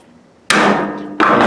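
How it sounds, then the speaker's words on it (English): A Phillips screwdriver is knocked into a block of soft wood to punch a hole, giving two sharp, loud close-up strikes, the second following about 0.7 seconds after the first. "Here I'm using a Phillips screwdriver, and I'm going to punch into a block of soft wood,"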